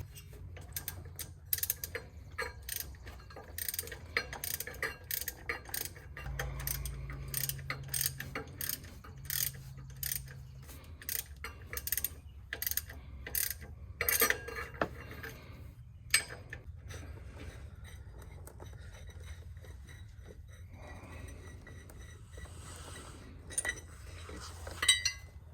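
A power steering pulley on a bagged Chevrolet C10 is worked loose with sockets and a ratchet: clustered metallic ratchet clicks and rapid clacks, then clinks of tools and parts, close up and steady, with no talk.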